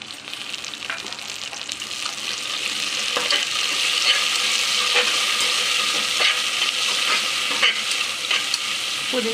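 Chopped onion and mint fry in hot oil for tomato rice. A continuous loud sizzle builds and holds, broken by repeated scrapes and taps of a stirring spoon against the pan.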